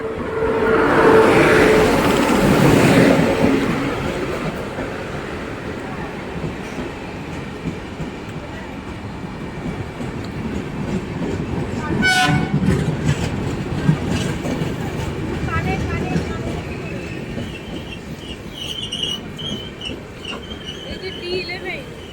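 Jan Shatabdi Express train on the Ghatshila–Howrah route rolling along the tracks, a continuous rumbling rail noise with clattering wheels and a brief high squeal near the middle, loud and close, with voices in the background.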